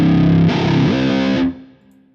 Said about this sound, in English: All we've done is get a classic whammy, set the mode where we want it.